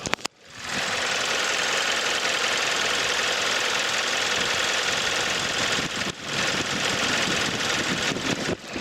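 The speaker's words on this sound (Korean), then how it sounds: "엔진 소음도 한번 들어보시도록 할게요" A Hyundai Grandeur HG sedan engine idles steadily, a continuous mid-pitched rumble with a faint rhythmic knock. It holds level throughout, with one brief dip partway through.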